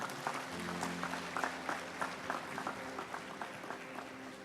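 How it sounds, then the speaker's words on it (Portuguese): Applause at a church service, offered to Jesus, as a faint, steady patter of clapping from the congregation, with a low sustained musical drone underneath. "Vamos aplaudir Jesus"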